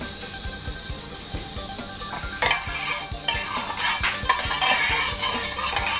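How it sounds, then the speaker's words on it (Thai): Clattering utensils scrape and tap in a pan as sesbania flowers stir-fry in hot oil over a low sizzle, with busy stirring sounds building louder partway through. "ผมตั้งกระทะให้เดือดแล้วก็ใส่น้ำมันลงไป"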